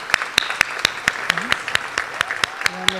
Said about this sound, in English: offer you a round of applause for your contribution as a sterling example of what being a civil servant is all about